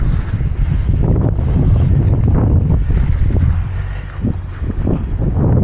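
Loud wind buffets the microphone with a heavy, low rumbling roar that surges and eases in gusts, with no voices.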